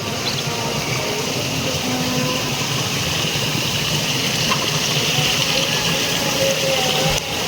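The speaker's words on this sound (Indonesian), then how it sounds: "di sungai kecil atau solokan ya tuh airnya sangat deras" Water rushes hard through small streams and ditches after heavy rain among rice fields, a continuous close roar and gush that stays steady throughout with no voices over it.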